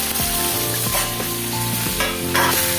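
Vegetables and eggplant frying in a pan give a steady, fairly loud sizzle, broken by scraping stirring strokes and clinks of the spatula throughout.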